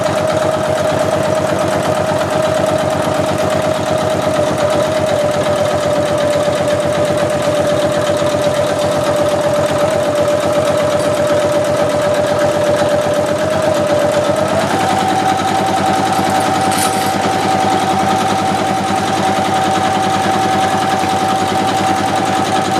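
Sewing machine stitching a shoulder bag, running continuously and sped up into a steady rapid mechanical drone with a rising pitch partway through, close and loud, with no talk.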